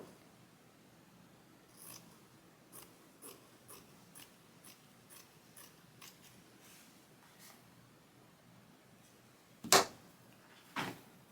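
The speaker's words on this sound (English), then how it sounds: "now that we have our scissors, I am just going to try and cut it as straight as possible" Scissors cut fabric for an embroidered toddler t-shirt, a steady series of soft, quiet snips followed by two louder, sharper cuts near the end.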